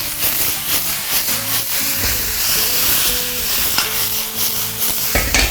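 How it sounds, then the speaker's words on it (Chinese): Eggs and blanched wood ear fungus tossed into onions stir-frying in a hot wok, a loud continuous sizzle and hiss with scraping stirs, light music playing underneath. "洋葱炒一会儿之后，我们下入鸡蛋和这个提前焯水的木耳"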